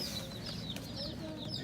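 Chickens cluck softly in a farm store, with big fluffy-headed chicks among them, short chirpy calls scattered over a steady indoor hum and murmur.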